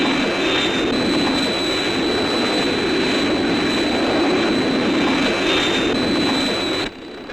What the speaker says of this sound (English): Hey, I hear an aircraft.